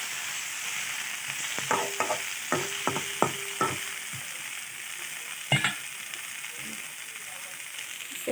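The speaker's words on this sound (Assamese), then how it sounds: "ৰঙালাও আৰু আলু ভাজি বনাইছোঁ।" Pumpkin and potato pieces fry in a pan with a soft, steady sizzle, while a run of sharp knocks and scrapes from a utensil clusters in the middle.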